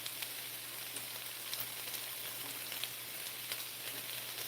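Leftover water sizzles in a hot pan, a steady fine crackling hiss with scattered tiny pops, fairly quiet and even throughout with no voices.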